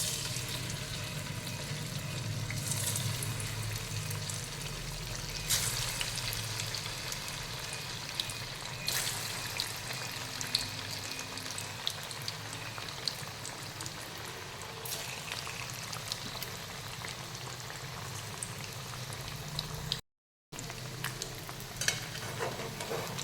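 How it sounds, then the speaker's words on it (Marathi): Colocasia leaf vadi, cut into pieces, frying in hot oil: a steady, dense sizzle that runs throughout, close by, with occasional stirring clicks and a brief dropout near the end. "आता ह्याला खमंग तेलामध्ये तळून घ्यायचं आहे"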